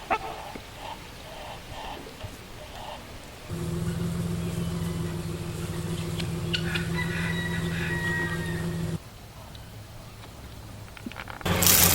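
Farm chickens cluck and a rooster crows in a rural yard, with a loud sustained droning crow-like honk dominating the middle stretch, close and clear, no speech.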